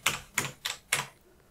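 Four crisp, evenly spaced clicks of keys pressed on a BMD Speed Editor keypad, close and distinct, the last fading into quiet.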